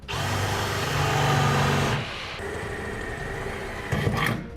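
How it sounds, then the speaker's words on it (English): A power drill bores into the bed of a 2013 Chevrolet pickup truck, a steady loud whine for about two seconds, then a lower, quieter drilling drone with a brief burst near the end. "we'll drill out our bed"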